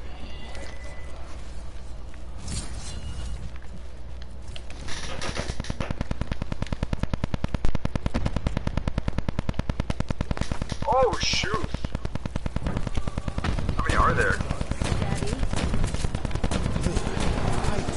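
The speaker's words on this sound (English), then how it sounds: "My shotgun kills him easily." Dense, rapid gunfire from a video game shooter battle, a steady rattling stream of shots with a few louder blasts standing out, loud and continuous over the game soundscape with some voice present.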